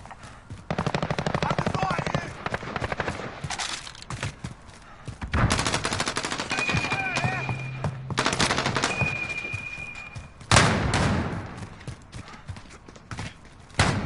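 Dense automatic gunfire from the Modern Warfare video game rattles in loud, sustained bursts with short gaps, several sharp peaks standing out through the stretch.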